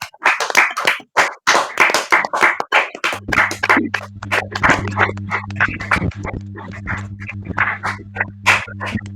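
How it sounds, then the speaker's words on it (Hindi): Loud audience applause fills a church open-stage gathering, dense continuous clapping that swells and surges throughout, with a steady low electrical hum joining partway through. "तो आइए हम जोरदार तालियों के साथ परमेश्वर"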